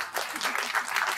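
Audience applause at a Tamil film industry event honouring producer K. Rajan, a dense steady wash of clapping that holds at an even level throughout with no voices over it.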